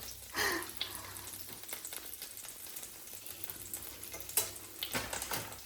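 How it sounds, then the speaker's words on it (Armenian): Garlic frying in melted butter in a pan, a soft continuous sizzle with stirring scrapes and occasional clinks, fairly quiet, with no voices. "Մի վարքյանից հեսա կավելացնեմ, մի քիչ սխտորը տապակվի"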